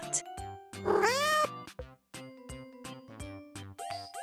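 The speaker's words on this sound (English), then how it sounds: "Cat." A cat meows in a clear, rising and falling cry over a bed of musical tones, with the loud meow near the start and notes continuing after it, no speech.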